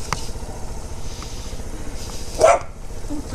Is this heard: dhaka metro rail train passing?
no